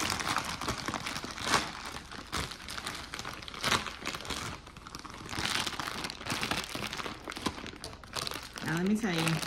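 Amazon package being carefully opened by hand, its plastic packaging crinkling and rustling continuously close up, with a voice talking softly over it near the end.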